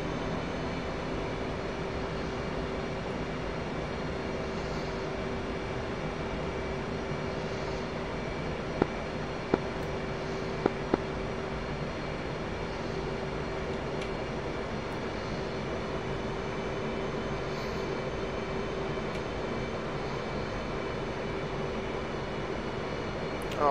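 An F/A-18 Hornet jet on a Case 3 landing approach in DCS World: a steady engine whine and cockpit drone throughout, with a few brief clicks midway and no voices.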